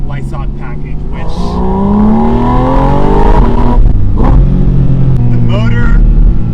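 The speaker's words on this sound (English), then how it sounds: "the motor and the air boxes right next to your ear is one of the best recipes in the automotive business right now" A naturally aspirated 2025 Porsche 718 Spyder RS Weissach package engine revs hard close by, its loud rising note climbing through the gears with an intake roar, then settling back to a lower drone as someone talks over it.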